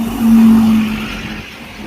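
A bus and other traffic pass along a London road, a close engine drone swelling and then fading over about two seconds, with no talking.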